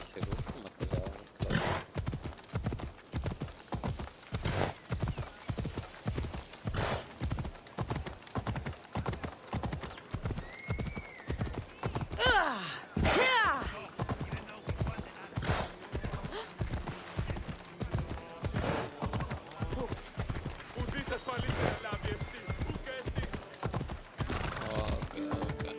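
Video game horse hooves clip-clopping in a steady, fast galloping rhythm throughout, loud and close, with a brief whinny partway through and occasional speech over the hoofbeats.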